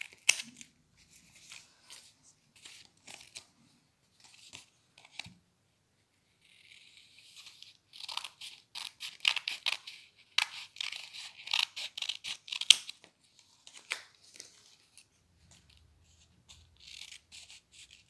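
Scissors snip through paper in a children's craft class, giving soft, intermittent cutting clicks that grow denser in the middle, with quiet gaps between them.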